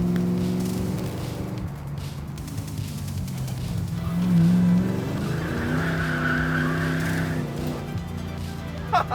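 A Foxbody Ford Mustang drift car with an angry 5.0L V8 drones through corners with a steady engine tone, as tires squeal loudly midway through, heard close from on board.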